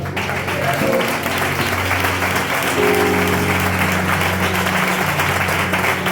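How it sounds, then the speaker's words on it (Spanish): A church congregation claps loudly and continuously in a dense wash of applause, while organ or keyboard tones sustain underneath and a few voices call out. "Denle un aplauso al Señor"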